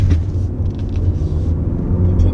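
Mazda CX-50 compact SUV accelerating up to 60 mph on California 150 West highway, a steady low engine drone and road rumble heard from inside the cabin, continuous and moderately loud without talk.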